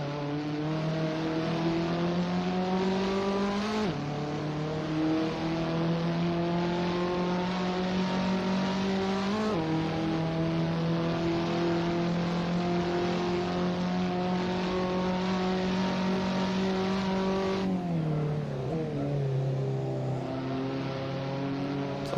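A race car engine in a racing sim at Magione drones loud and steady through a long stretch, pitch climbing gradually then dropping sharply at each gear shift, with no voices.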